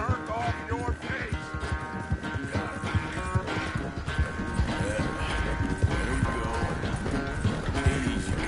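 A horse gallops in Red Dead Redemption 2, its hooves beating a steady, fast, close rhythm throughout, while voices speak over the hoofbeats.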